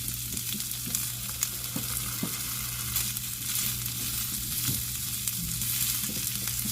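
Sausage and potatoes sizzle and crackle steadily in a frying pan, with scraping stir strokes and occasional knocks as pieces are moved around; no talk, moderately close.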